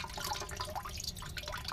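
Water trickles and drips from the bottom of an aquaponics grow bed as its siphon starts, a close, steady busy patter of small splashes and bubbling with no pauses.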